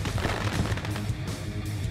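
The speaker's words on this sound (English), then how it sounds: "Randy, under the fireworks, under the lights." Fireworks burst over a dirt racetrack at night, a dense, continuous roll of loud booming cracks with no clear gaps.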